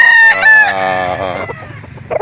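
Roosters crow at a gamefowl market in Calauan, with bullstag birds among them, one long crow ringing out close and loud and then fading into overlapping crows and clucks nearby.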